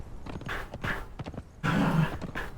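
A modded horse in Conan Exiles clip-clops with quick, close hoof strikes, faint and uneven at first, then a heavier run of steps.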